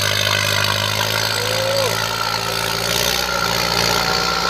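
A vehicle engine runs loud and close with a steady low drone, a slight rise in pitch suggesting a light rev partway through, continuous for about four and a half seconds.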